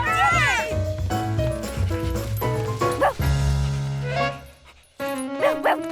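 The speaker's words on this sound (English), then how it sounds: "It's that dog again!" A cartoon dog barks and yips several times, loud and close, over busy background music and voices.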